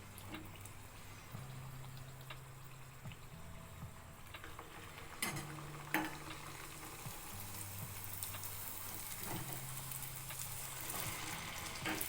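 Puris for pani puri frying in oil over a low gas flame, a soft continuous sizzle with occasional louder clinks and scrapes from a utensil, faint and close with no voices.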